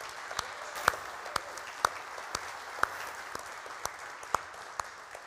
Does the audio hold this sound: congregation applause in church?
yes